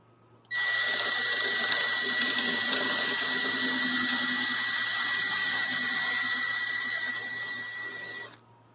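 A new brushless power drill runs in one sustained whine for about eight seconds, close and fairly loud, while prepping a red MTT43 number 110, winding down slightly before stopping.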